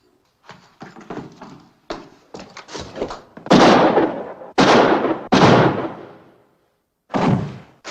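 Gunshots in an old Western film scene: several loud, sharp blasts with echoing tails, spaced a second or so apart, preceded by smaller thuds and scuffling, with no talk over them.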